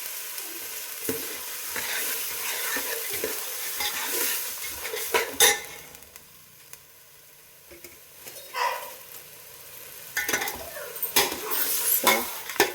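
Greens frying in oil in a pan, a soft steady sizzle under repeated scraping and stirring with a utensil, with occasional sharper clinks against the pan.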